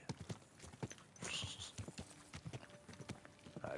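Steady clip-clop of horse hooves trotting along in the video game Kingdom Come: Deliverance II, close and rhythmic, with a brief whinny-like tone and no talking.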